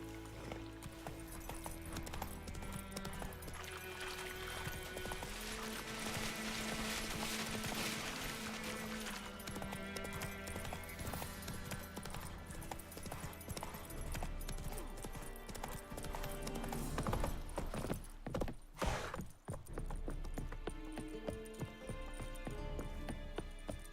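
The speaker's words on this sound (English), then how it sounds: "Run, Roach" A horse gallops in the video game The Witcher 3, its rapid hoofbeats driving steadily over game music. The hooves break up and scatter near the end.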